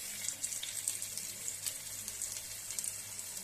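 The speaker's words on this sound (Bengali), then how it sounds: "নিয়ে উল্টে পাল্টে লাল করে ভেজে নেব।" Chicken paratha frying in hot oil in a frying pan, giving a steady, soft sizzling hiss with small crackles, continuous and fairly quiet with no talking.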